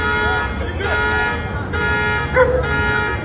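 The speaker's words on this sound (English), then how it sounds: "Dog." A dog barks a few times in the distance amid background noise and a car-horn-like tone during a police search scene, with a voice speaking faintly underneath.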